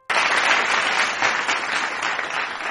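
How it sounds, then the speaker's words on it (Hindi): Applause fills a royal court, a dense, sustained burst of many hands clapping that starts abruptly and holds at even loudness for a few seconds. "दरबार तालियों से गूंज उठा।"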